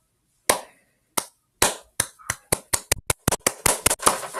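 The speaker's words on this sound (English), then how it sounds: "Clap, clap, clap, clap." A single person's hands clap alone in a quiet room, starting with a few spaced claps and then speeding into a rapid run of sharp, close claps.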